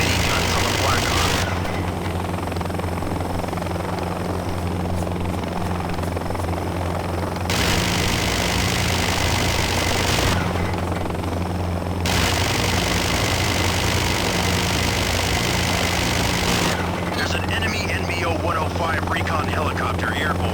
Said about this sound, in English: Recon helicopter airborne.